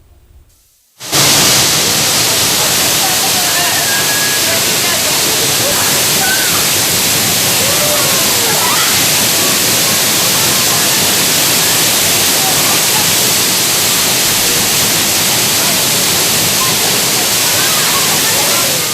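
A cool mountain valley stream rushes in a steady, loud, broadband roar of flowing water that starts abruptly after a second of quiet and continues unbroken.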